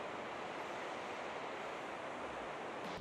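The Quesnel River, a Canadian salmon river, flows below in a steady, dense wash of rushing water, an unbroken broadband roar with no voices.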